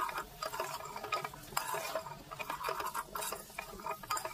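Bitter gourd and prawn curry, freshly salted, is stirred vigorously in a pot, giving a steady, close scraping and rustling with sharper scrapes throughout and no voices.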